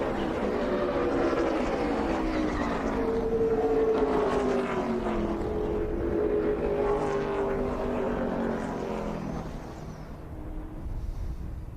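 NASCAR Cup Series race car engines roaring loudly and continuously as cars pass during a crash sequence against the wall, a droning, shifting engine whine with no distinct impact, heard alone without voices.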